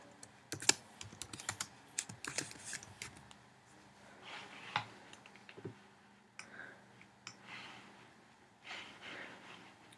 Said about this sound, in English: Click on your text button and type in anything you want.